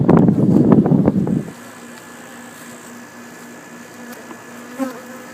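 Agitated honeybees swirl around Florida pollination hives after an alarm pheromone release, a loud close buzz of wings at first, then thinning to a faint steady drone with a passing bee.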